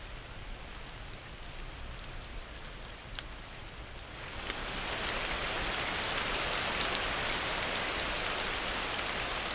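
Steady tropical rainfall in the Amazon rainforest during the rainy season, a soft even hiss of drops that thickens into a heavier, denser downpour about halfway through, with no voices.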